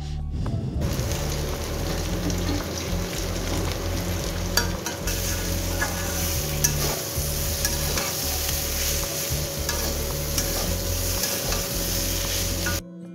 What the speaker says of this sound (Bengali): একটু আলু ভাজাটা আমি বসিয়ে দিই